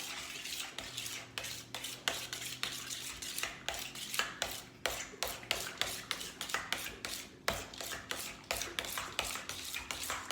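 Cream of mushroom soup and sour cream being stirred together in a bowl, a quick, rhythmic series of sharp utensil taps and scrapes against the dish repeating steadily and fairly close.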